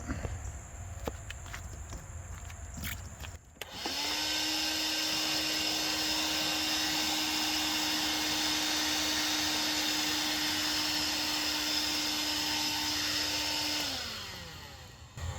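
A vacuum cleaner starts up after a few seconds of shuffling, vacuuming out part of a John Deere lawnmower, runs loud and steady with a high whine, then winds down near the end.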